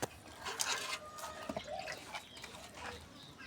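A little water is poured from a hand into a small cooking pot packed with meat for a village-style biryani, heard as faint, scattered drips and light splashes in a quiet outdoor setting.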